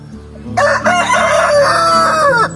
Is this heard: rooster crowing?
yes